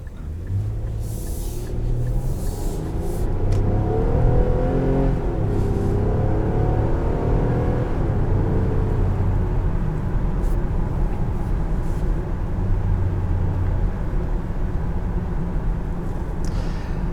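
A 2023 Infiniti QX60 with a 3.5-litre V6 engine is being driven. A low, steady engine hum and road rumble come from inside the cabin, moderate and continuous.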